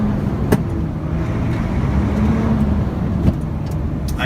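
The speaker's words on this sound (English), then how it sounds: "When I give it a rev in neutral, give it a pretty good size rev." A Sinotruk truck engine, heard from the cab, rumbles loud and close as it is revved in neutral and swells gradually. Faint clicks and knocks sit over the steady roar.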